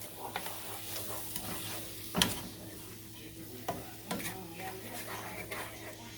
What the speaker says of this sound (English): Okay, then you'll fry this for a few until it gets soft.